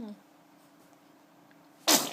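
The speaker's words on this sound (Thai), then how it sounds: "แม่ทาแป้งให้ทีไรจามตลอด" A child sneezes once after talcum powder is applied, a sharp close burst near the end following a quiet stretch.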